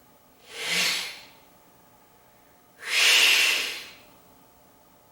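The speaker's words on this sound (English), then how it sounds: "The raptors were breathing hardly." Two loud, breathy snort-like exhales from raptors, each a broad hissing burst about a second long, the second stronger and longer, set against a quiet dark background as a dramatized sound effect.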